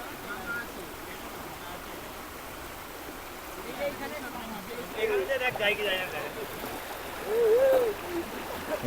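Floodwater rushing under a bridge in a flooded village makes a steady, broad watery hiss throughout, with people talking over it.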